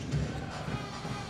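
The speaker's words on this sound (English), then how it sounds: "Mid-sized crowd here at Stadium 29." Mid-sized basketball crowd at Stadium 29 during an ASEAN Basketball League game, a steady murmur of fans filling the arena with faint swells of cheering throughout.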